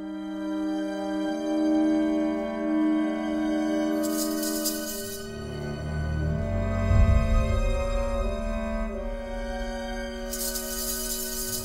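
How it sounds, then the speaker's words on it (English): Egyptian sistrum with stacked metal discs, shaken with quick flicks of the wrist, gives two bright jangling bursts of rattling over a sustained tonal backing. "Another rattling instrument, this time with stacked discs, is the Egyptian sistrum."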